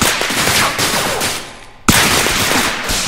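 Gunfire and a fire extinguisher bursting in a first-person shooter: dense, loud continuous shooting noise with a sharp explosive burst near the end, then the barrage carries on.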